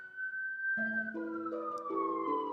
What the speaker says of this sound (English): I apologize if that siren outside made it in the video.